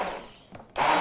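An electric mixer blending sweet potato mixture into eggs, a close whirring buzz that dips briefly and then surges back loud.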